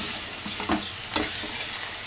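Chayote pieces sizzle with tempering in a pan while a spoon scrapes and stirs in three or four quick strokes, close up with no voices.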